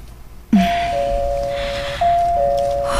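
A two-tone condo doorbell chime rings out clearly after a brief quiet start, then sounds a second time, with steady room noise underneath.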